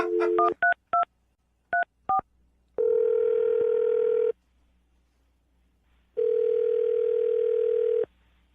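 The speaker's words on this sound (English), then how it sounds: "I'm going to dial the phone number right now" A landline telephone is dialed up close: a string of short paired keypad tones, then two long steady tones separated by a gap of quiet. Nobody talks.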